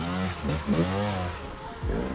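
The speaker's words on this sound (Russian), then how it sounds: "она первый раз в жизни вообще ездит на эндуро мотоцикле" An enduro motorcycle ridden by a first-time rider, its engine droning and revving up and down steadily and close by for about two seconds, with no talk over it.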